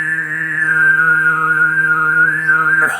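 A throat singer holds a low drone while a piercing sygyt whistle-like overtone, shaped by mouth and tongue position, rings steadily above it, sustained for a few seconds.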